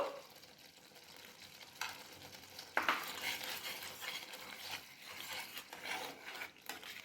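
A spatula scrapes and stirs a spiced paste in a frying pan as ground cumin is added for palak paneer, a steady soft sizzle and rasping scrape, with a few louder strokes partway through.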